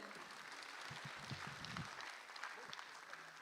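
Broad, dense applause from a crowd at a film festival closing ceremony fills the clip, steady and moderately loud, with faint voices underneath.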